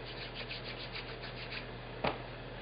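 Fabric paint being rubbed into cloth by hand, a steady soft rhythmic rubbing close by with one brief louder scuff near the end.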